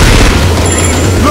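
Loud, heavy gunfire booms in a shooter video game, a dense continuous barrage that fills the whole moment, with no speech.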